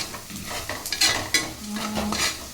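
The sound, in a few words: sautéing onion with ginger and garlic in a pan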